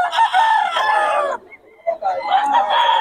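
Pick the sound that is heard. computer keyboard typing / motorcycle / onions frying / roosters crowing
roosters crowing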